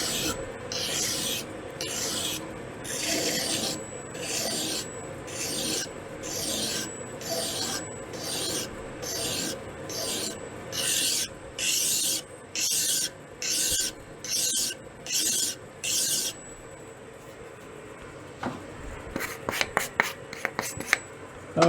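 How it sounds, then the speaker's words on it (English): A dull carbide cutter being touched up on a green grinding wheel, a rhythmic series of about a dozen short rasping strokes, fairly close, followed by quieter scattered clicks and scrapes. "Carbide cutters, I've got a green wheel over here that I'll use to touch that up."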